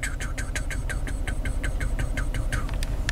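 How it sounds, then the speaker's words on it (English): A Hyundai Veloster's engine idles roughly with a fault, the whole car shaking, its engine rumble low and steady beneath a rapid series of regular, sharp ticking clicks heard close up. "and it's not holding an idle"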